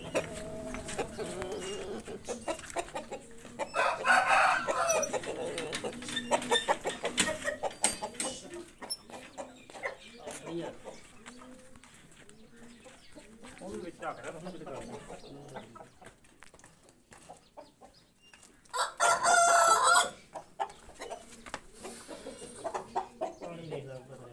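A rooster crows loudly twice, far apart, between softer clucking and scratchy background noise from nearby fowl.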